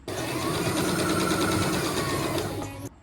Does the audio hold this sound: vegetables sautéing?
no